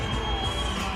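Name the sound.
crowd reacting to boxer Ramiro Jimenez at boxing event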